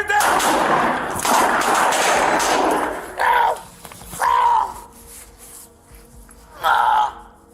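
Loud, close gunfire bursts out during a police bodycam confrontation, a rough blast-filled stretch followed by several separate sharp reports spaced over a few seconds, with shouting voices mixed in.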